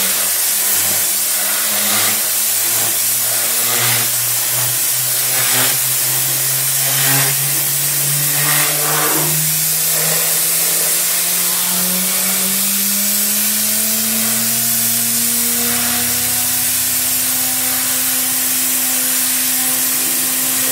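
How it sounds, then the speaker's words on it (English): Compressed air gun blasts water off a freshly cleaned car wheel, giving a steady loud hiss with short sputtering bursts, over a droning tone whose pitch rises slowly throughout. "will help the drying process with the air gun"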